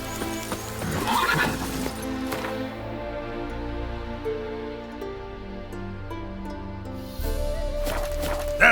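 Roach the horse from The Witcher 3 video game gives a clear, close neigh and whinny, followed by snorting and a few soft hoof clops against a quiet background.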